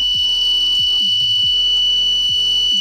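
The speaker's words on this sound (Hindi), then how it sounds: "और साथों साथ बजर बजेगा" An electronic buzzer on a three-phase transmission line fault detector board sounds continuously as a steady high-pitched tone, loud and close, with intermittent clicks and thumps underneath.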